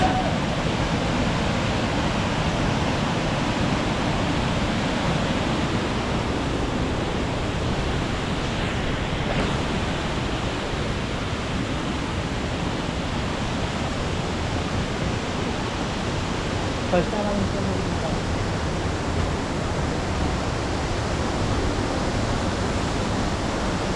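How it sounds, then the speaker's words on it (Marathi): Heavy rain pours down steadily on a night jungle trek near Gupt Bhimashankar, a dense, unbroken roar of close downpour that never lets up. "पाऊस खूप जोरात आहे"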